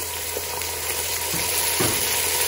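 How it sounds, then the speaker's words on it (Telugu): Chopped capsicum, green peas and tomato sizzle steadily in hot oil for wheat rava kichidi, a close, continuous frying hiss with a few soft stirring scrapes. "ఇప్పుడు వీటిని వేగనిద్దాం."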